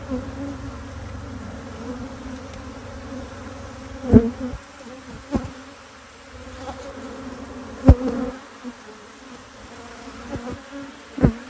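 Angry bees buzz inside a house during a removal, a dense, continuous drone with individual insects zipping close past at intervals.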